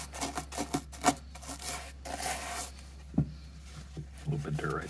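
Dirt being brushed out of the ridges of an NES cartridge, with soft quick scratchy strokes in short bursts under close talking.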